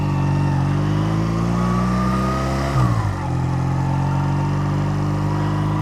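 A Honda Rebel 250 motorcycle engine hums loud and close at a steady pitch, then a brief shift midway and a settled drone afterward, with no talk.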